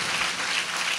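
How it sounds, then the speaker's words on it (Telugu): A church congregation claps together in praise during the opening of a new church building in Banda Atmakur, a dense continuous patter of many hands with no pauses. "చప్పట్లు కొడుతూ దేవుడికి స్తోత్రం."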